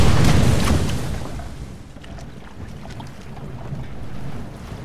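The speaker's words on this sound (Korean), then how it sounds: "안심할 틈도 없이 흔들리는 요트." Yacht pitching in a storm at sea with its mast broken, a film scene: heavy roaring wash of wind and waves, loudest at the start, then a steady churning rumble with creaks and splashes.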